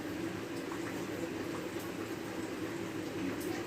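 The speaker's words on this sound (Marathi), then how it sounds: "कारले खालीवर करून घ्यायचे चारी बाजूने छान फ्राय करून घ्यायचे" Stuffed bitter gourd (karela) frying in a pan, giving a steady, loud, continuous sizzle and bubbling of hot oil with no pauses, heard close up and alone.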